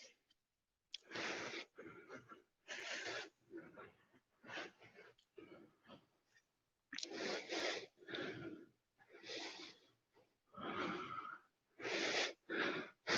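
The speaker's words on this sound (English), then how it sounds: "I really want us to focus on our breathing here." Heavy, rhythmic breathing during a tiring exercise hold, a series of close, loud inhales and exhales with wheezy, effortful bursts separated by short pauses.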